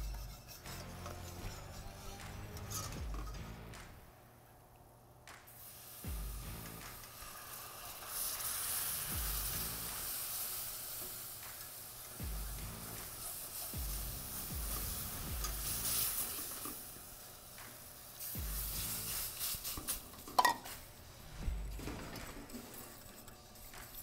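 Flour toasts in a pan for cheese fries, a soft sizzle rising and fading as a utensil scrapes and stirs it in uneven strokes, close and fairly quiet, with short pauses and a few sharper knocks.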